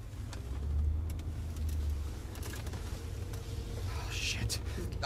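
Police car driving in the Life is Strange 2 teaser: a steady engine hum and rolling road noise from inside the car, rising slightly, with a voice talking quietly over it.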